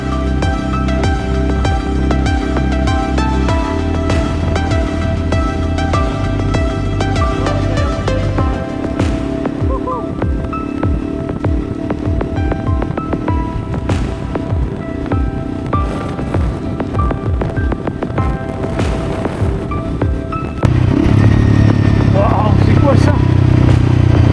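A Honda CRF 300L dual-sport motorcycle runs along the F225 gravel track in Iceland toward Landmannalaugar, across black ash desert. Its engine drones steadily under wind, with rattling from the ride and a louder, rougher burst near the end.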